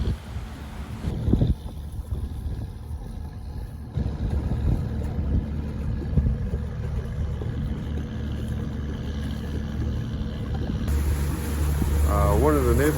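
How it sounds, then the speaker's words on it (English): A tugboat pulls a marina dock on the water near a Canadian naval ship, a steady low engine drone with wind buffeting the microphone that grows louder toward the end, under occasional talk. "Here we have a tugboat pulling a marina dock"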